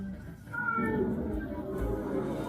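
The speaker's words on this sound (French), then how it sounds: "Ah, c'est le chat. Le chat essaie de prévenir" A cat meows over a steady background in a home, with voices faintly present, the mews rising near the start and again toward the end.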